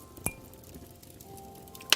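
Glasses of bourbon clinking in a holiday toast, one sharp close clink followed by a quiet pause and a second bright clink at the end, with no voices.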